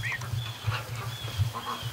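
Geese honk and cackle repeatedly at close range, with low grunting calls running underneath.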